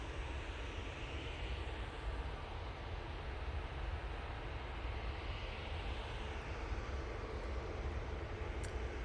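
Boeing 787 Dreamliner coming over, a faint, distant, steady broadband engine rush that holds evenly throughout with no speech.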